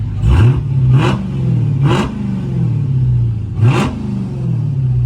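The supercharged V8 of a 2018 Dodge Charger Hellcat revs hard four times, each sharp roar rising and falling back to a deep, loud idle rumble between blips.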